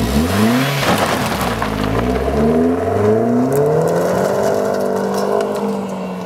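A Chevy Sonic Turbo with a cheap coffee can exhaust revs loudly up close, its raspy, buzzy drone climbing and falling in pitch through several throttle blips before settling into a steady high hum.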